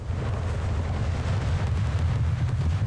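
A sea mine detonates in the city-building game Anno 1800 during a naval battle, producing a sustained, loud, deep rumbling roar with a rushing wash of noise that continues without a break.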